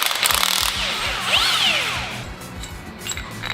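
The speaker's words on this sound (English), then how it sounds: "So let's take that nut apart and see if the bushing genuinely just comes apart." A power tool whines and rattles up to speed, then winds down, while loosening a nut on a bushing of a Hyundai Elantra N during a polyurethane bushing kit install. The sound is close and loud, with no talk.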